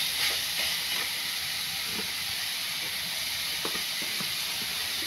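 Masala spices frying in a pan give a steady, bright sizzling hiss that holds evenly throughout, with a few faint clicks of stirring scattered through it.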